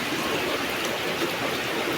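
Light rain falls steadily outdoors, a dense even patter of drops on surfaces that holds at the same level throughout with no talking.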